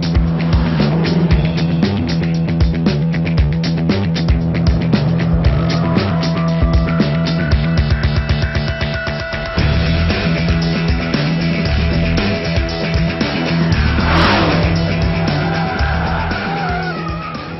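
A 2015 Dodge Challenger SRT Hellcat lapping a racetrack in hot conditions roars loudly and continuously, its supercharged engine rising and falling through gear changes, with sustained tire squeal through the corners.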